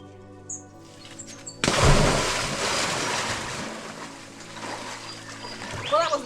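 A person jumps down into a creek pool after a scramble: a quiet moment with faint sounds, then a sudden loud splash and churning water that slowly settles, with a brief voice near the end.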